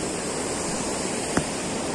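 Floodwater rushes across a village road near a bridge, a loud, steady roar of flowing water with one brief knock partway through.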